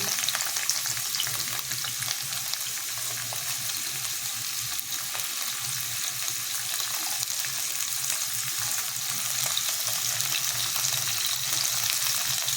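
Onion, carrot and beans frying in a pan for veg chow mein, a continuous close sizzle with soft stirring scrapes, steady and unbroken with no talk.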